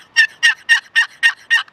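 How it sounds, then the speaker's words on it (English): A Matt Dell Signature Series Old Sly box call, a high-friction turkey call, rings out six sharp, piercing yelps in an even rhythm, loud and close with nothing else behind it. "the Matt Dell Signature Series Old Sly box call"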